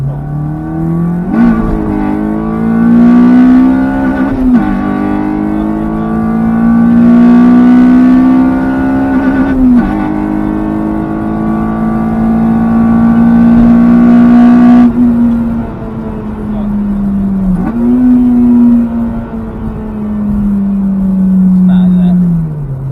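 A Honda Type R accelerating on the road: a loud, close engine note that climbs in pitch through several gears, dropping briefly at each shift before rising again.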